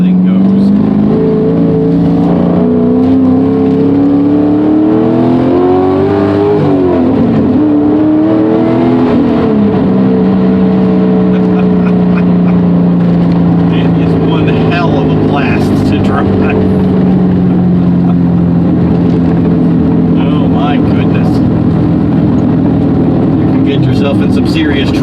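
Porsche 944 with a swapped LS V8 engine accelerating hard, loud rising engine note climbing through gears with sweeping pitch changes, close and dominant throughout.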